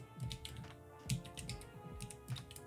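Rapid typing on a computer keyboard during a live coding session, with irregular bursts of close key clicks over soft background music.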